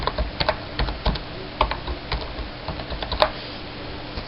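Password typed on a computer keyboard while logging into a roaming profile on a home server: a quick, irregular run of close, crisp key clicks with no talking.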